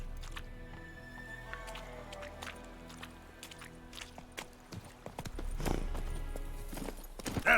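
Roach, the horse in The Witcher 3, trotting with clear repeated clip-clop hoofbeats at a steady rhythm, joined by light game ambience and occasional faint effects, no voices.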